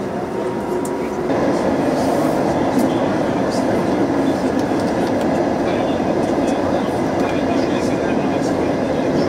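An Istanbul metro train runs on the Başakşehir-Kayaşehir line, giving a loud steady rumble of wheels and motors heard from inside the car, with faint clicks on top.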